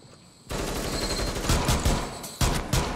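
Bursts of automatic gunfire from Rainbow Six Siege during a Terrorist Hunt round ring out loud and close, rattling in rapid volleys with sharper peaks near the end.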